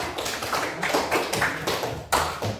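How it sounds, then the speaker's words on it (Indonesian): A classroom group applauds together, a steady patter of hand claps running for a couple of seconds with a sharper burst near the end, fairly close and with no talking over it. "Tepuk tangan dulu."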